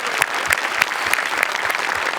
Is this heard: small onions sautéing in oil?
no